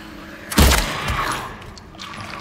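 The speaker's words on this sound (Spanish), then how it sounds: "Dos tiros y te bajas al bicho." A sharp burst of gunfire bangs once loudly in the video game Silent Hill 2 Remake, followed by a short rumbling tail and faint game sounds in the background.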